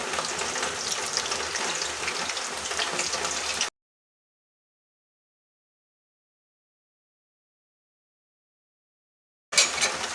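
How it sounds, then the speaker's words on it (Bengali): Drumstick-leaf pakoras deep fry in oil over a lowered flame, a moderate bubbling sizzle that runs for a few seconds, drops into a long stretch of total silence, then returns briefly at the end. "লাল লাল করে ভেজে নেব পাঁচ মিনিট ধরে ভেজে নেব"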